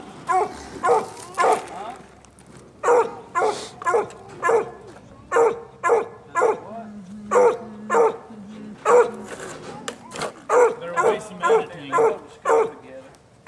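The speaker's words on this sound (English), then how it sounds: "because my barking dog" A pet dog barks repeatedly at home, a close, loud run of sharp barks in quick bursts with short pauses, some higher yips mixed in.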